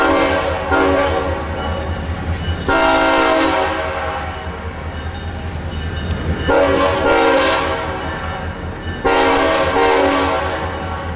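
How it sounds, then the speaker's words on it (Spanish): Former BNSF locomotive 7840 sounds its five-chime horn in a loud, sustained blast that rings for several seconds, then pauses and sounds again in repeated long blasts over a rumbling idling engine nearby. "la 7840, que sí fue de BNSF, y que prácticamente conserva todas sus características, destacando un silbato impresionante de 5 voces"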